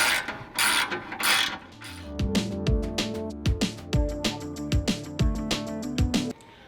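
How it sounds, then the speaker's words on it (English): A ratchet clicks in quick repeated bursts, tightening bolts on a TRD skid plate fitted to a 2022 or later Toyota Tundra, the rhythmic pawl clatter close and fairly loud with short pauses between strokes. "I'm just tightening up the last bolt here"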